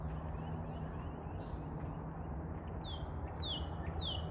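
Outdoors, a bird sings a few short descending whistled notes near the end, faint and distant, over a steady background hum of ambient noise.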